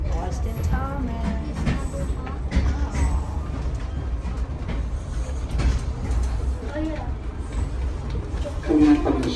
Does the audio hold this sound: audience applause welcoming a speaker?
no